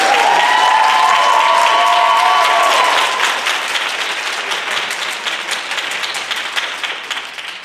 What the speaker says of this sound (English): Give everyone another round of applause.